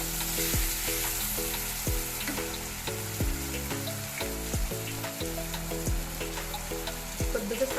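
Tomatoes frying in a pan for egg dum biryani, a steady sizzle with repeated scraping and stirring strokes of a spoon against the pan, close and fairly loud, with no talking.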